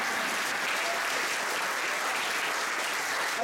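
An indoor audience at a question-and-answer session claps in sustained, even applause from many hands, with no voices over it.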